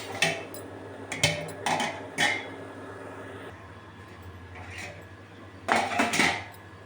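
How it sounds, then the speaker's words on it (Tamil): A plate set over a pot of dried brinjal: a few sharp metallic clanks and clinks in quick bursts, then a pause and a final cluster of clatter, close and fairly loud with no speech. "இப்போ வந்து ஒரு தட்டை போட்டு மூடிடுவோம்"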